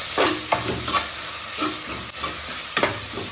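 Bottle gourd biryani ingredients with mint and coriander being stirred in a pot, a soft sizzle broken by several rhythmic scraping strokes, close up and with no speech.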